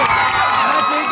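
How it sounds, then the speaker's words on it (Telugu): A theatre crowd at a film success event roars with loud, dense cheering and shouting that fills the whole moment, close and continuous. "గట్టిగా చప్పట్లు కూడా"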